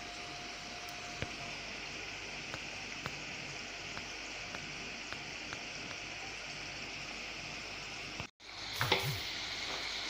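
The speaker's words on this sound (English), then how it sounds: "So let's just keep frying. But this is what we want it bubbling" Homemade French fries frying in hot oil, a steady, soft, dense sizzle and bubbling throughout, with faint ticks and a brief stir or clatter near the end.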